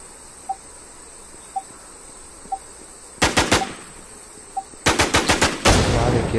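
Gunfire in the zombie shooter game WarZombie: a few sharp single shots, then two rapid bursts of loud automatic fire, close and punchy.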